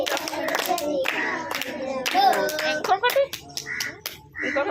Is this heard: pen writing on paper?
no